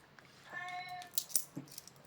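A cat gives a short, quiet meow indoors, a single drawn-out call followed by a few faint clicks and rustles.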